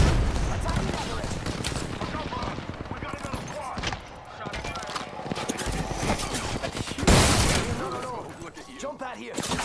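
Heavy volleys of gunfire in the Apex Legends video game, sustained rattling bursts and booming shots that swell and fade, with voices and game effects layered underneath.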